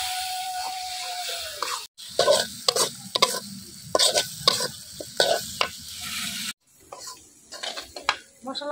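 A spice paste with dried chilli powder and a splash of water sizzles in a pan for chicken biryani while a spoon stirs and scrapes it in quick repeated strokes, close and lively.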